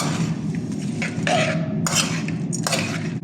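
A spoon scrapes and clinks against a pan while cauliflower Gobi Manchurian is stirred and mixed, giving a few distinct metallic knocks over a quiet kitchen background.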